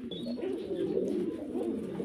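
Pigeons kept for sale, among them Spanish pouters, coo in low, throaty, continuous calls close by, with a faint higher chirp above and no speech.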